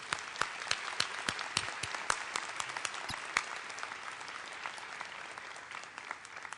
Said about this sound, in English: join me and the platform party in thanking them with a round of applause